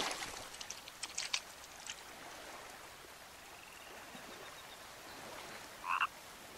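A frog croaks in the survival game The Forest, a few short croaks near the start and another louder croak near the end, over a soft watery ambient bed, with no speech.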